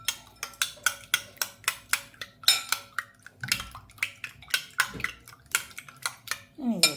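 Eggs with onion and salt being beaten briskly in a bowl for an omelette, a fast rhythmic run of clinking, tapping strokes that continues steadily at close range and ends with a short scrape.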